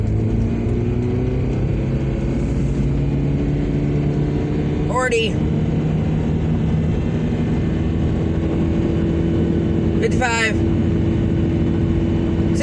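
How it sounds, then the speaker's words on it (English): A 2007 Toyota Prius with a dying engine accelerating from 0 to 60, a steady droning engine hum that holds loud throughout, with a person talking over it. "0 to 60 time in the 2007 Toyota Prius with an engine that's dying."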